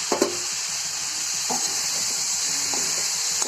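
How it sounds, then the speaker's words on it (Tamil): Tomatoes go into a hot pan for a cauliflower, peas and potato masala, giving a constant bright sizzle with a few soft stirring taps and knocks close by. "இப்போ இந்த ஸ்டேஜில் நம்ம வந்து தக்காளி போடணும்"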